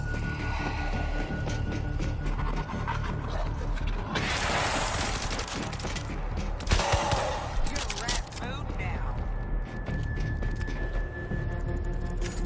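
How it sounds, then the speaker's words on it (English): Automatic gunfire in World War Z, a New York tunnel level on Insane mode, as an auto turret fires: rapid mechanical bursts over constant game noise, with the heaviest volleys near the middle. "I got us an auto turret."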